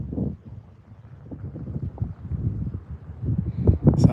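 Strong outdoor wind buffets the microphone in low, uneven gusts that swell and ease, with scattered rustling and a few faint higher sounds near the end.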